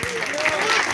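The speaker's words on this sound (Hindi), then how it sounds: "बजाइए तालियां।" Audience applause breaks out during a fiery political speech at an association rally, a brief wash of clapping heard under a voice that carries on over it.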